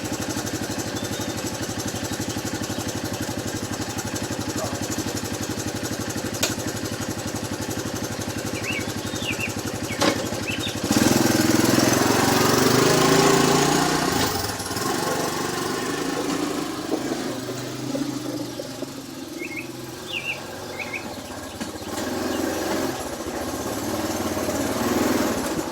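A 1983 Honda ATC200E Big Red three-wheeler engine runs steadily throughout, a mid-pitched idle that swells louder and rougher around the middle before settling back to a constant putter, with no talking.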